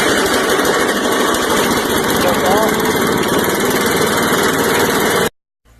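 A Troy Bilt 47287 chipper vac engine set to fast throttle with the choke on, running loud and close with a steady droning roar that cuts off abruptly near the end.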